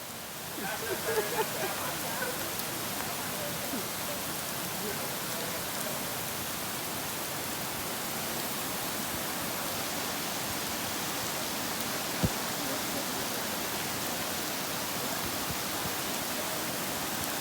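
A waterfall's water rushes and roars continuously as a dense, steady wash of noise, close and loud, with no talking over it.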